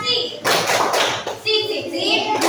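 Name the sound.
classroom children's appreciation clap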